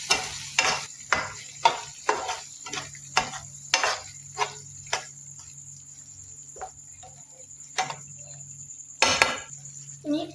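Chicken changezi with yogurt is stirred in a pan: a close, rhythmic run of spoon scrapes and clacks against the metal, pausing briefly before a few more strokes, over a low sizzle.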